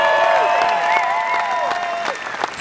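A concert crowd at a live show in Stuttgart applauds steadily, with high whistles and cheers rising over the dense, continuous clapping.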